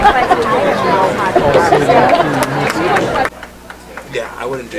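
Loud crowd chatter at a York varsity football senior night, dense overlapping voices and babble close to the microphone, dropping abruptly to a quieter murmur near the end.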